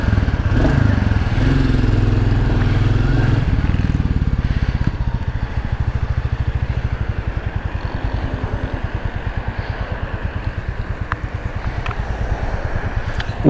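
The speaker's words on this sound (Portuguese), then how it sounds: "Mas vocês vão aproveitar o som do motor" A Royal Enfield Classic 350 motorcycle engine runs steadily throughout on a ride, a close, rumbling drone with a brief rise in revs early on, accompanied by wind noise.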